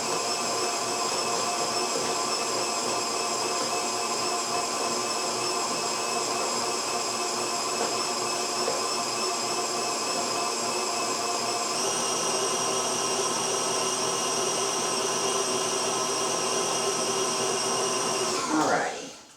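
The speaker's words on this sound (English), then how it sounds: "Turn it up high so it really get that pumpkin mixed in with the butter and the sugar." A kitchen electric mixer runs on high, beating pumpkin, butter and sugar for pumpkin pecan bread. It gives a loud, steady whir that shifts pitch once partway through and then cuts off abruptly at the end.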